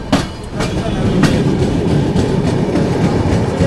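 An Indian passenger train, the Mumbai Mail, rumbles past close by near Nagpur, wheels clattering in a rhythmic clickety-clack over a loud, steady roar.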